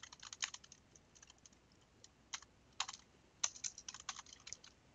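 Fast, irregular typing on a computer keyboard while an item description is written in RPG Maker 2000, quiet close-up key clicks in short bursts with brief pauses and no talking.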